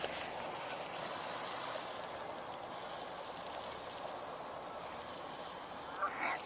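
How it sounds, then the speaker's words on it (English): Geese honk in a loose, overlapping chorus at a moderate distance, calls rising and falling over steady outdoor background noise, with a louder burst near the end. "I kept hearing the geese."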